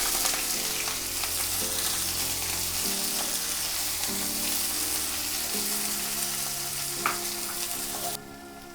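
Sliced onions sizzle loudly in hot oil in a kadhai after ginger and garlic have been sautéed, a steady close-up frying hiss with faint stirring scrapes throughout and no talk.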